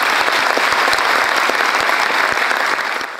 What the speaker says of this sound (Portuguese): Recebamos o colega com uma salva de palmas.